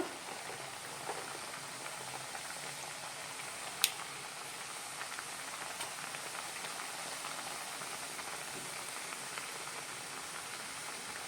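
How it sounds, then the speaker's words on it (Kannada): Nippattu dough frying in a pan of hot oil over a medium flame: a steady, even sizzle and crackle runs throughout, near and fairly quiet, with one brief sharper pop partway through. "ಎಣ್ಣೆ ಕಾದಿದೆ. ಒಂದೊಂದೇ ಹಾಕೋಣ. ಒಂದು ಮೇಲೆ ಬಂದಮೇಲೆ ಒಂದು ಹಾಕಬೇಕು."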